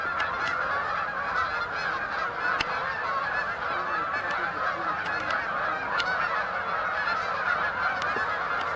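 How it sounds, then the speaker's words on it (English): A large flock of geese honking continuously in the evening at a birding spot, a dense layered chorus of many calls at mid distance with no speech. "in the distance, you can see there are a lot of geese that have come in."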